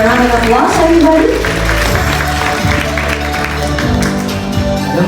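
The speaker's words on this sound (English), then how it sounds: "Please give him a round of applause, everybody." A crowd claps steadily in a dense, continuous wash of applause, with some voices mixed underneath.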